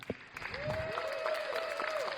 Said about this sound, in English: So big round of applause for Gord Grant.